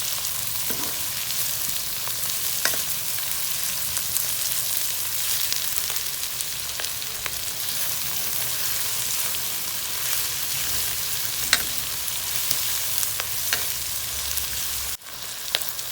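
Chopped onions frying steadily in a pan as they turn golden brown, a continuous close sizzle with small pops and crackles throughout, no voices.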